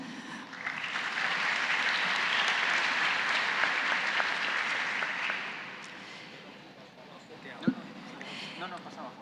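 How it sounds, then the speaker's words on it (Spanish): A conference audience applauds the author after a talk on distributing resources to individuals. The clapping is steady for about five seconds, then fades, followed by quieter room sounds and a single sharp knock. "agradecemos al autor, un aplauso."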